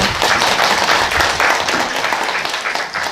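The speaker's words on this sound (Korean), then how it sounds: "한 분 한 분 소개 드릴 때마다 큰 박수 부탁드리겠습니다." A seated audience at a Buddhist graduate school entrance ceremony claps loudly for guests being introduced, a close, dense burst of applause that stays steady throughout.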